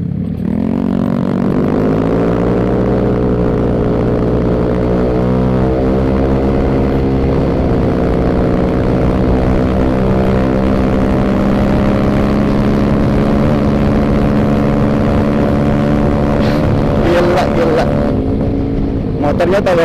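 A Yamaha NMAX scooter with an upgraded CVT drives along on a test ride. Its engine drones loud and steady the whole way, pitch shifting with the throttle, while wind buffets the microphone and speech can be heard faintly.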